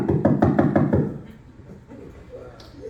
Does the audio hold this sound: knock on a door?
yes